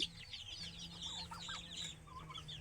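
Native desi chickens raised for meat on a small farm cluck and chatter close by in quick, overlapping bursts, with a low steady hum underneath and no voices.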